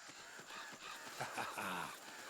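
Crows caw in the Uncharted video game, a run of harsh, rasping calls that overlap and grow busier toward the middle, heard fairly close against quiet ambience.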